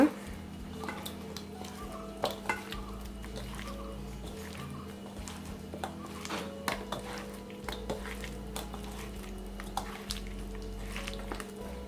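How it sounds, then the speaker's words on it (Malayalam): Fish being marinated by hand in masala for Kerala fish fry, with soft wet squelching and scattered clinks of a bowl or utensil in a quiet kitchen, over a steady low hum. "എന്നിട്ട് നന്നായി മാരിനേറ്റ് ചെയ്ത് കൊടുക്കുക ഈ മസാല."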